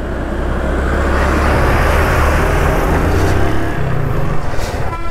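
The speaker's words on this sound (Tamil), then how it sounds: "வண்டி என்ன முக்குன்னு முக்குது" A vehicle engine strains as it climbs a hilly road, droning loudly and steadily with a broad roar of road and wind noise throughout.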